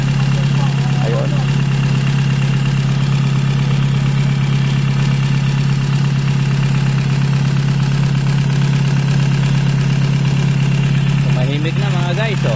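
Repaired engine idling smoothly, a steady low hum with even, continuous tone held throughout, close by, with no talk over it.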